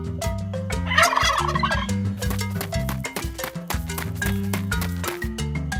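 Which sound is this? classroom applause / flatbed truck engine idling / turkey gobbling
turkey gobbling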